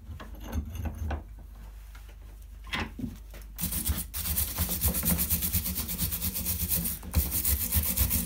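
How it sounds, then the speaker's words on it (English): A wire brush scrubs a Mercedes Sprinter brake caliper during a disc and pad change, with loud, rapid rasping strokes that start partway through and then keep up in a steady scraping rhythm, close to the microphone. "we'll give this a really good clean up with a wire brush"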